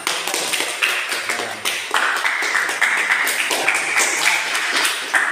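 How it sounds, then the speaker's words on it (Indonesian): Classroom clapping on cue during a teaching session, a dense steady patter of many hands close by, with a few sharper individual claps, sustained for about five seconds. "Oke, tepuk tangan."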